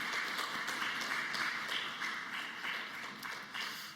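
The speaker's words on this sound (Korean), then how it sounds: "축복하는 박수 한번 하도록 하겠습니다" A church congregation at a Wednesday service applauds together in blessing, producing a dense, steady wash of many hands clapping that fills the room for the whole stretch, slightly easing toward the end.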